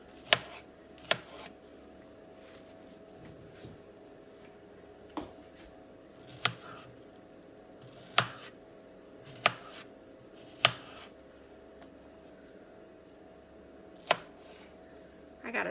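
Peaches being sliced with a knife on a board, about ten sharp, isolated cuts spaced irregularly over a quiet background, close and crisp, with no talk.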